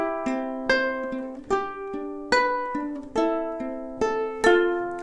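Fingerpicked ukulele plays the chords of a song, with clear, close plucked notes in a steady rolling pattern and fresh chord attacks about every second or so.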